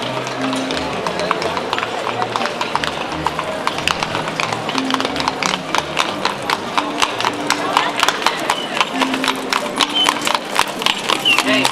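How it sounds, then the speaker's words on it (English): A horse and carriage clip-clops through Prague's old square, brisk repeated hoof strikes on cobbles growing louder and closer, with a neigh and background crowd chatter. "watching the horse and carriages go by"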